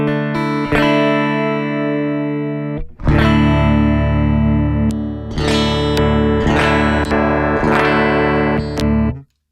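Distorted electric guitar chords played through a Mooer GE200 multi-effects unit straight into an audio interface, loud and sustained with chorus and reverb, a brief gap before repeated strummed chords ring out and cut off at the end.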